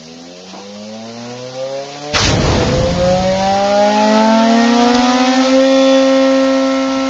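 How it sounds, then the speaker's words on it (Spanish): Small high-revving engine being turned over by its electric starter, a rising whine and then a sharp catch as it fires and revs up loudly, holding a high steady tone. "lo que hace ahí el operador es le da arranque al motor"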